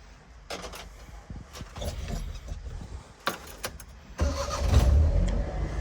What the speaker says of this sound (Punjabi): ਮੈਂ ਤੁਹਾਨੂੰ ਇੱਕ ਵਾਰੀ ਕਾਰ ਸਟਾਰਟ ਕਰਕੇ ਚੈੱਕ ਕਰਵਾ ਦਿੰਦਾ